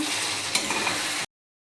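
Duck egg curry frying in bubbling hot oil, a dense steady sizzle up close that runs for just over a second before cutting off abruptly.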